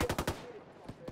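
Three rapid, sharp gunshots open a short burst of gunfire in Ghost Recon Wildlands, followed by a few more scattered shots, moderately distant.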